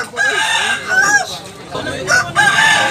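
A bulik bullstag gamecock with blue legs crows loudly and close at a Cebu market, one long crow overlapping further crowing and clucking from nearby birds.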